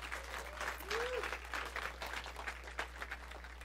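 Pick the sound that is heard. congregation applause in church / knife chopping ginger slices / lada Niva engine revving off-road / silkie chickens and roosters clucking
congregation applause in church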